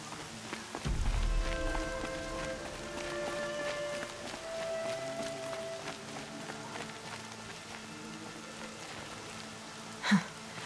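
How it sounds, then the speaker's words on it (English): Rain in Horizon Zero Dawn falls as a soft, steady patter, with a brief thump early on and a sharp knock near the end, and no speech over it. "Rain's not so bad."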